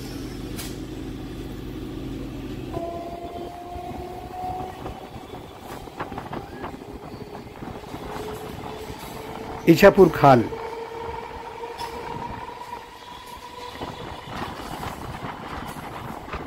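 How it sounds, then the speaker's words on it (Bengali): A Budge Budge–Naihati local train runs along steadily near Ichhapur, a continuous rumbling rail noise with a brief burst of clatter midway, while someone talks over it throughout. "লাইনে ট্রেন অনেক কম, সেই জন্যই হয়তো বেশ ভালো টানছে গাড়িটা।"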